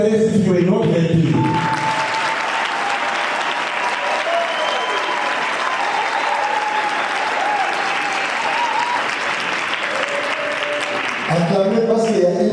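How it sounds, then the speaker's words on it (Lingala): A church congregation breaks into loud, sustained applause, with clapping that swells quickly and holds steady for about ten seconds between bursts of talk at the start and end. "Can we clap again once more for the Lord?"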